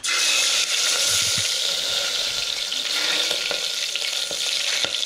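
Whole spices such as cinnamon, pepper, cloves and cardamom sizzle in hot oil for a pulao tempering, a loud, dense, continuous hiss with small pops and crackles, close up and without voices.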